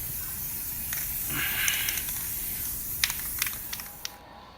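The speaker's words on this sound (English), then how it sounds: "I decided my hands would be gold, and so I used gold spray paint." Gold spray paint hisses from an aerosol can onto a hand mold in a steady close spray, followed by a few short clicks and taps, with no talking.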